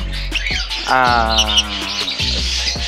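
Several caged birds kept as a set for a raffle chirp and squawk loudly and close by, with busy overlapping calls and no talking.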